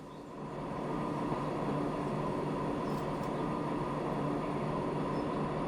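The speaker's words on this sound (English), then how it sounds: "I just want to watch the new train come out of the depot to see how well the carriages match" In the railway simulation Transport Fever 2, a train pulls out of the depot with a steady rumbling rail drone and rolling clatter that swells in the first second, then holds constant and fairly close.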